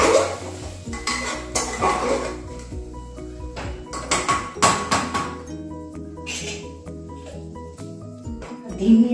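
Chicken curry fries in a pot while a spoon clanks and scrapes against the metal in irregular knocks and rattles over a low sizzle, close and fairly loud, with faint talk in the background.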